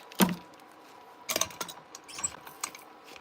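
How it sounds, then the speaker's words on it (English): A floral pick machine fires a pin into a topiary centerpiece, giving a sharp mechanical snap followed by a few fainter clicks and rattles, quiet and close with no talking. "little pick machine and go right under here"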